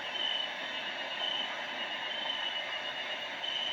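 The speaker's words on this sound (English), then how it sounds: "Rainforest." A white noise machine on its rainforest setting plays a steady, dense hiss of rain-like noise with faint chirping tones, continuous and even throughout.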